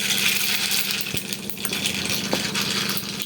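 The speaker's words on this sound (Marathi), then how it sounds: "मोहरी टाकायची आहे" Mustard seeds dropped into hot oil in a pan for kanda poha, a steady close sizzle with a few small pops and crackles throughout, without talking.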